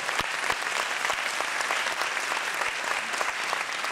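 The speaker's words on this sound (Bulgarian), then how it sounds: "Моля вашите горещи аплодисменти още веднъж за Радост и Лили." Warm, dense applause fills a hall at a tango dance school event, many hands clapping steadily and close for the whole stretch with no voices over it.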